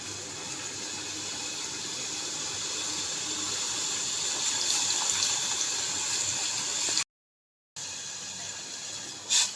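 Milk pouring into a pot gives a steady, hissing liquid rush that runs continuously for several seconds, cuts off briefly, then resumes with a short louder splash near the end.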